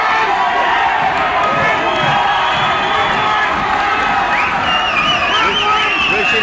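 A boxing arena crowd roars and cheers loudly and continuously, a dense wall of shouting voices with whoops rising toward the end.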